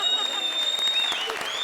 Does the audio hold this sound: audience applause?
yes